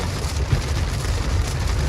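Steady light rain patters on surfaces outdoors, a continuous soft hiss with no voices.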